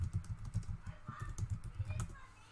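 Fast, steady tapping on a computer keyboard, close and fairly quiet, keys clicking in a brisk irregular rhythm for a couple of seconds.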